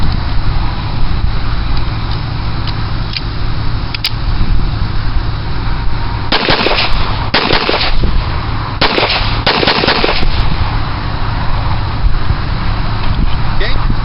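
A Wilson Combat checkered stainless 1911 pistol firing at an outdoor range, four loud sharp shots in two spaced pairs, each cracking over steady background rumble.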